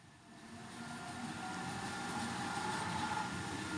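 A train runs steadily in the Roblox game Brookhaven, a continuous rumbling rail noise that swells slightly in the first second and then holds at an even, moderate level with no talking.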